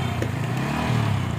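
A motorbike pulls away carrying two riders, its engine a low steady rumble close by, brief and without speech.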